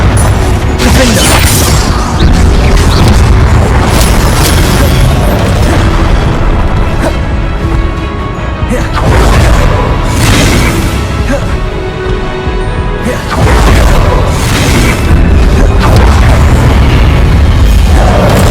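Confringo spells from Hogwarts Legacy blast off in quick succession: loud, dense booming explosions that overlap with scarcely a pause. A deeper lull comes near the middle before the bursts pile up again.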